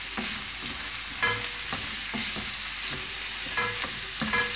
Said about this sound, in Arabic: شوح كده بالمنظر ده لحد ما الخضار يدبل معايا كده